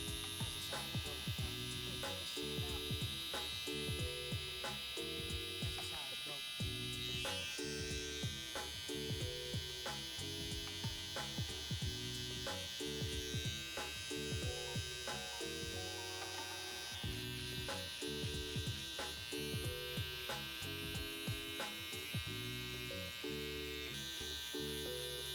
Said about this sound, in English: come in with my trimmer in a forward position just to get that much closer to the scalp